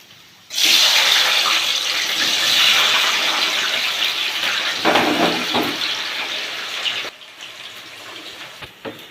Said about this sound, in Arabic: ومعايا البطاطس بتاعتي، هقلي البطاطس